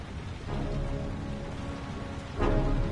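Steady rain in the Heavy Rain video game, a dense continuous hiss with low rumble that swells louder near the end, with no talking.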